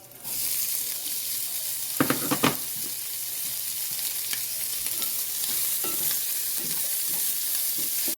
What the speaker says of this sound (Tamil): வெட்டி வச்சிருக்கிற வெங்காயம், பச்சை மிளகாய், கருவேப்பிலையை சேர்த்து வதங்க விடுவோம்.